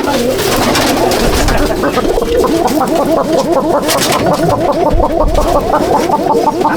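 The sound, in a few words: chatiyal pigeon cooing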